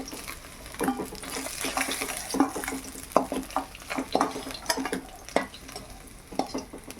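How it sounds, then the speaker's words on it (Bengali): Tengra fish frying in oil, a soft steady sizzle punctuated by frequent scraping and clattering taps of a spatula turning the fish in the pan, close and without talk. "মাছটা ভাজা হয়ে গেছে তুলে নেই"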